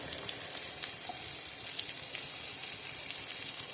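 Ginger garlic paste sautés in a pan, giving a soft, faint, even sizzle with a crackle like light rain. It stays steady with no voices.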